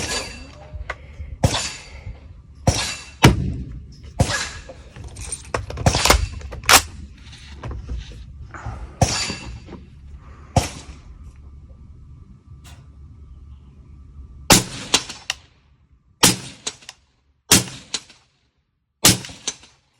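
Rifle shots from the Micro Prism firing 110 grain Hornady XTP supersonic rounds at a 100-yard target, a string of sharp, loud cracks spaced a second or two apart, each with a short echoing tail, and a quieter lull midway.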